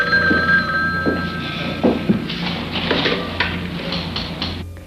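An old-style telephone bell rings in several bright, trilling bursts separated by short pauses, fairly close and loud with no voices over it.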